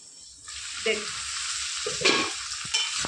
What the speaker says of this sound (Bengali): অনেকটা সবজি মজে এসছে, ভাজা ভাজা হয়ে এসছে